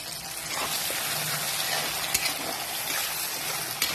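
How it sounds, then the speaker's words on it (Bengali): Kashmiri chili powder frying in hot oil for a tengra fish curry, a close continuous crackling sizzle with a couple of sharp pops and no talking. "এই দেখো লঙ্কাটা ভাজা হয়ে গেছে।"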